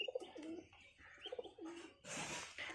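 Pigeons cooing in a backyard coop, several soft, throaty coos close by, followed by a burst of brighter rustling or flapping near the end.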